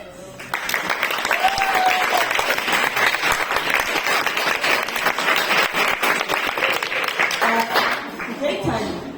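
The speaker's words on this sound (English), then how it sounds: "Round of applause." An audience applauds after a scientific talk on disease modelling, a dense, loud burst of clapping that runs for most of the clip, with faint voices mixed in before it fades.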